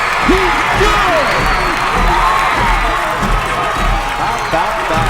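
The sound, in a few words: football crowd cheering a game-tying field goal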